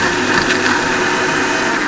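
An electric blender whirs steadily as it froths milk for doodh soda, a loud continuous motor whine with a churning rush that holds even for the full stretch, no voices.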